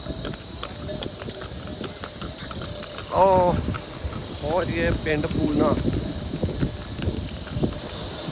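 Horse hooves clip-clop along a mountain pilgrimage trail on the Hemkunt Sahib route, a steady walking rhythm close by under continuous chatter and voices.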